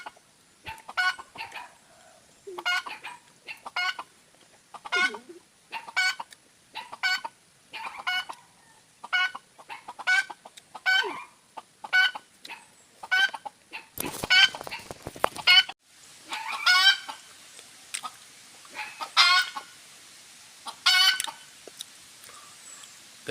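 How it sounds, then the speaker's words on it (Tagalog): A hen clucks repeatedly in a steady run of sharp calls, with a louder, busier flurry of agitated cackling toward the end, close and clear with no talking. "Ganito pala si Putol pag nakakita ng malaking kalaban. Pumuputak"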